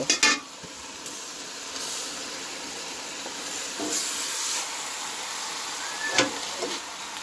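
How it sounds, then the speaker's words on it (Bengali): Potatoes and chicken giblets frying in a pan give a steady, fairly quiet sizzle and hiss, with a few brief stirring scrapes and clatters scattered through. "আলুটা দু তিন মিনিট ভেজে নেব এখন এর মধ্যে আমি দিয়ে দেব মাংস"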